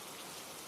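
Steady rain falls in a dense, even hiss of drops with no breaks and no other sounds.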